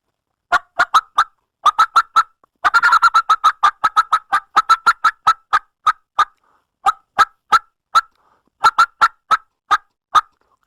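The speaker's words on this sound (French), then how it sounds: "Si ça ne réagit pas encore, on saute une autre étape, piaillement d'excitation. Exciting yelp." Wild turkey excitement yelps: a loud, close series of sharp, rapid calls in irregular bursts, with a dense flurry around the middle and steady runs of evenly spaced yelps after it. There is no talking.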